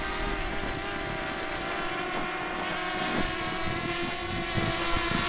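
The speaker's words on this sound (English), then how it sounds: "I'm going to follow the drone circling Andre" A DJI Mavic Mini drone circles a running person nearby, its propellers giving a steady, buzzing whine with sustained tonal hum and light wind noise, continuous and fairly loud.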